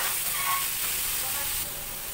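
Thinly sliced meat marinated in calamansi, oyster sauce, soy sauce and black pepper hits a hot pan with a loud, bright, continuous sizzle that eases slightly near the end.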